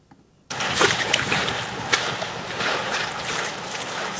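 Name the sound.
generated ocean waves and footsteps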